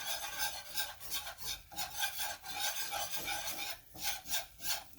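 Roux being stirred into the juices of a cheeseburger soup in a pot, a steady scraping and rubbing of the spoon against the pot in repeated strokes, close and fairly quiet, with no talking.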